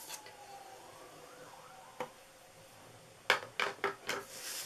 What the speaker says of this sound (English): I hear ambulances and stuff.